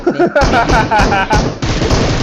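Loud bursts of gunfire in PUBG Mobile crack out in quick succession over a couple of seconds, close and punchy, layered with game noise and a voice talking.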